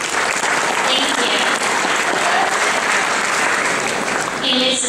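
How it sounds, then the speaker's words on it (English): Sustained, loud applause from an audience for a dance team, with dense clapping and crowd noise filling the whole stretch and no talk. "please give your dance team a round of applause"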